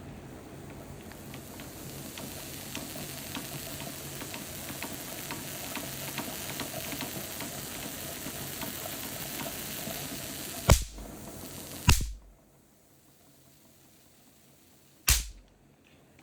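A loud electric sparking device, crackling with a dense buzzing rattle for several seconds, then three sharp, loud snapping discharges separated by near silence.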